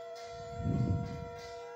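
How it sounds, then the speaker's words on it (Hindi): Bells ring steadily during an evening aarti at a Hindu temple, a sustained metallic ringing with a brief swell in the middle, moderately near and with no talk over it. "देखिपारे घंट बाजुची, शंख फुंका होची।"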